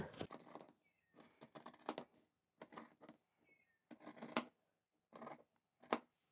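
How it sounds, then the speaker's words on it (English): Scissors cut down the centre of a towel in a series of close, crisp snipping and rustling bursts separated by brief silent pauses, with no talking. "we can cut our towel. Straight down the centre."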